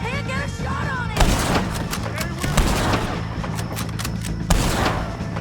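Dense, loud gunfire as O'Driscoll gang members are shot in Red Dead Redemption 2, with repeated sharp shot bursts around 1.2, 2.6 and 4.5 seconds over a constant game soundscape and background music.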